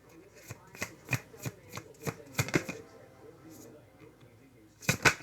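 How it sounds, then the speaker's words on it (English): Tarot cards being shuffled by hand, a series of crisp riffling bursts and slaps in uneven rhythm, close and fairly clear, with a quiet pause before a final flurry; a voice speaks softly around them. "These cards are hard to shuffle."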